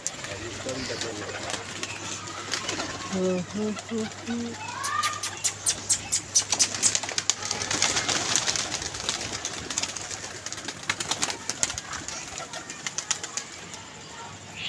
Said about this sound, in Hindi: वो देखो कबूतर आया फिर ऊपर।